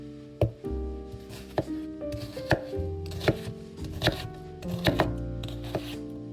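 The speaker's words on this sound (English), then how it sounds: "Chop up 1 large onion into big pieces." A large onion chopped into big pieces on a board, about a dozen sharp knife knocks at an uneven pace, close and clear with no talking.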